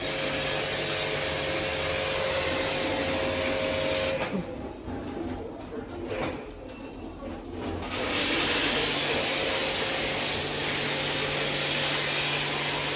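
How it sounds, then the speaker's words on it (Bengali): An air conditioner unit being washed at home with a water spray: a steady, loud hissing rush that drops out for about four seconds midway, then resumes at full strength. "বাবা কি জল দিয়ে এসে ধুচ্ছে, দেখো কিভাবে ধুচ্ছে।"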